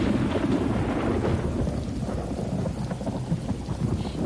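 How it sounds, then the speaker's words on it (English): Steady heavy rain with deep rolling thunder, continuous and full throughout, no voices present. "Is the rain necessary?"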